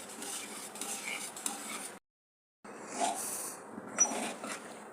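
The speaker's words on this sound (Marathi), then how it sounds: "आपल्याला याला चांगलं मिक्स करत राहायचं आहे" A spoon is stirring khapli wheat kurdai batter in a pot, making scraping and clinking sounds. The strokes are continuous, break off for a short silent gap, then start again.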